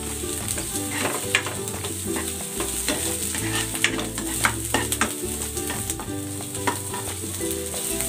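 Onion and chorizo de Bilbao sauté in a pan for chicken pochero, a loud continuous sizzle with occasional clinks and scrapes of stirring close by, no talking.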